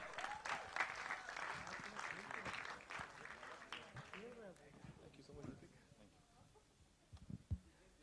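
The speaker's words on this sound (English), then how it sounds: "A huge round of applause" Crowd applause and cheering at a Bollywood song launch event fill the first half, tapering off as a voice and scattered sounds take over near the end.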